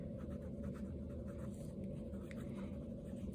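Micron 05 pen writing on handmade waxed paper, a continuous faint scratchy stroke under a steady low background rumble, with no speech.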